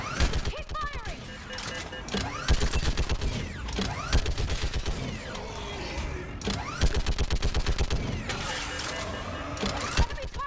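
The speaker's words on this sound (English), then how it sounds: "Keep firing!" Gunfire in Mass Effect 3 rattles in rapid automatic bursts, dense and repeating in waves, with mechanical clanks and shouted voices mixed into the fight.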